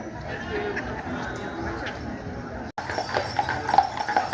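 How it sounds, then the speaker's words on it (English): Big draft horses clop along a car-free street on Mackinac Island, hooves striking in a steady rhythm from nearby, with crowd chatter and someone talking over the sound. "These are big draft horses too."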